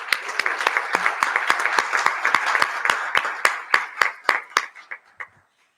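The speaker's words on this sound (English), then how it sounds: "Let's give a round of applause for our first round of winners." Audience applauding award winners at an excellence awards ceremony, a dense burst of hand clapping that thins out into separate sharp claps before stopping.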